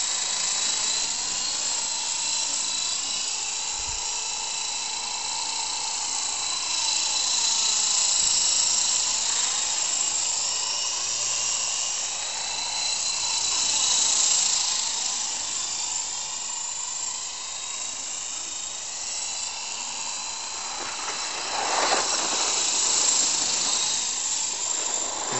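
A modified HB fixed-pitch RC helicopter hovering and flying backwards gives a steady, high-pitched whining rotor and motor drone with a hissy edge that swells and fades slightly as it moves, heard alone without talk.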